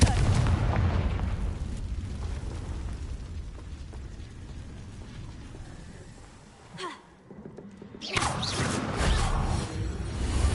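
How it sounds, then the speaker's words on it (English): A Confringo fire spell cast in Hogwarts Legacy: a loud, rumbling blast and crackle that fills the opening seconds, eases off, then flares into a second burst after a brief lull. "Confringo."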